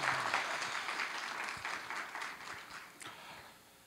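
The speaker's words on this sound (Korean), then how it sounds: "여러분 박수 부탁드리겠습니다." Audience applause at a disability employment consulting awards event, a dense burst of clapping from a seated crowd that gradually tapers off.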